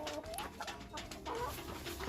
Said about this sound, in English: I'm gonna go ahead and show you a younger chicken